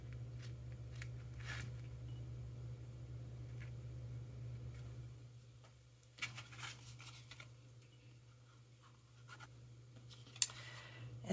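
Scissors trim paper for a card craft project, quiet snips and paper rustling against a low hum, with a few sharper cuts toward the end.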